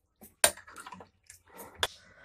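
Pickle being stirred in hot water in a home kitchen: soft sloshing and splashing with a couple of sharp clinks, close and intermittent.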